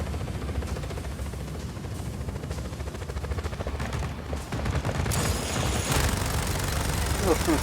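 Enemy gunfire in the video game Just Cause 4 crackles in rapid bursts over a constant helicopter-like drone, growing louder and brighter toward the end.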